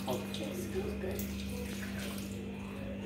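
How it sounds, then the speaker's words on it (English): Water poured steadily over coffee grounds, likely into a paper filter, forming a continuous close pour with a faint electrical hum beneath it and no talk. "Nana Bay is pouring the water."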